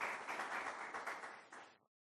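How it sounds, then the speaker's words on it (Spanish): A church congregation bursts into brisk, steady applause at a Sunday sermon, dense clapping that holds for under two seconds before cutting off abruptly. "Den un fuerte aplauso a la palabra de Dios"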